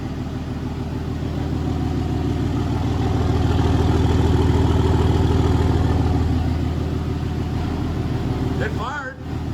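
A 2nd or 3rd generation Cummins diesel engine, just cold-started, runs loud and steady with a rough, rhythmic low knock throughout, then cuts out sharply near the end as a voice briefly speaks.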